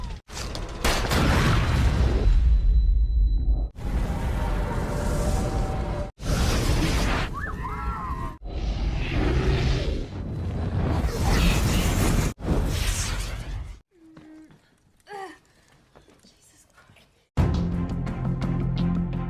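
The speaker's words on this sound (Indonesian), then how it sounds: "dan akhirnya bomnya meledak, tapi Dimitri sempat terkena tembakan" Loud cinematic bomb explosion booms and rumbling blasts with whooshing bursts in The First Purge, followed by a quieter stretch of sparse sounds before another loud burst.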